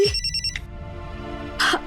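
A telephone rings in a Hindi TV drama, its electronic bell tone sounding in two short bursts, clear and close, with no talk over it.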